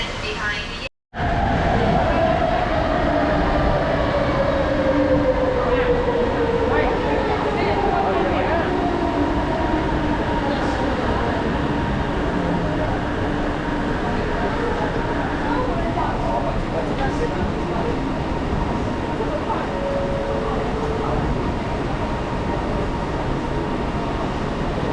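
A light rail train rumbles into an underground station in Kuala Lumpur, Malaysia, a long descending tone sliding down as it brakes, with a steady loud roar of motion throughout.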